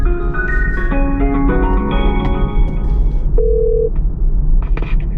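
An outgoing telephone call plays electronic tones: a run of stepped beeps gives way to one steady tone, then brief blips, all clear and fairly loud with no talking.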